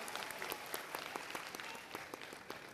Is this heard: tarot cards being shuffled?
no